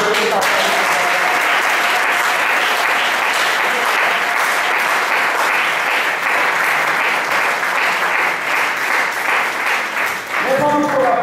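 A church congregation applauds to acclaim God, giving sustained, loud, dense clapping that lasts several seconds and then thins out at the end.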